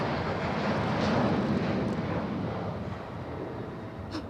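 Boeing 737-9 jet taking off at Raleigh-Durham International Airport: a broad, distant engine roar that swells and then slowly fades, mixed with wind rumble, no talk.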